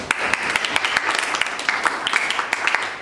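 A classroom audience claps for a student, a dense, even patter of many hands sustained throughout at moderate loudness, with no talk over it.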